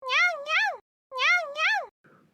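A kitten gives two clear two-part meows, near and fairly loud, separated by a short pause, with a faint rustle at the end.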